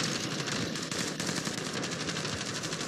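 Steady rapid automatic gunfire in Call of Duty Warzone, a dense unbroken stream of shots lasting about three seconds, loud and close with no talking.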